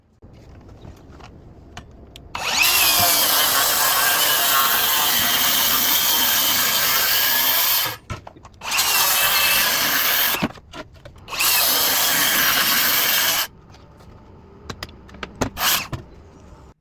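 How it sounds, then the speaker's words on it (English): A power saw runs three long cuts through a sheet along a clamped guide, loud and sustained with brief pauses between passes and a quieter idle and handling noise before and after. "I need to cut each sheet down into a 6-foot by 4-foot sheet."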